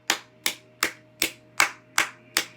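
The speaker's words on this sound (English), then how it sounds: "Give yourself a round of applause right now." Seven sharp, evenly spaced hand claps from a single person, close and fairly loud over a faint steady hum, with no talking.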